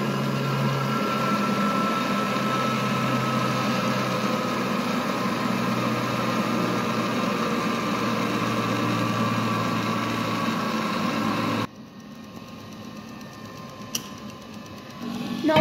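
A microhematocrit centrifuge spinning blood samples gives off a steady, loud motor whir with a high whine for about twelve seconds, then cuts off, leaving faint room noise and a click.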